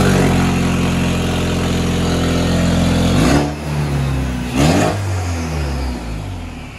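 A turbocharged engine swapped into a car roars at high revs, loud and close, holding a steady heavy drone, then dropping sharply twice as the throttle lifts before building again.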